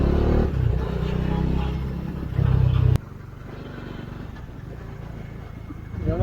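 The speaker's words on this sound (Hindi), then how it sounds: "शहर में ये होता है सुबह सुबह थोड़ा ट्रैफिक होता है।" Morning city traffic on a road in Punjab, heard from a moving motorbike: engine drone and passing vehicles, loud at first, then a sudden drop to a quieter steady hum.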